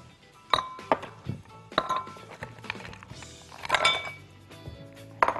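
Ice cubes dropped into peach vanilla iced tea, a series of sharp glassy clinks and clatters in irregular bursts, close up, with scattered knocks between.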